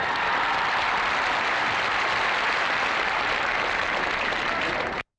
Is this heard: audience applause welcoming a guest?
yes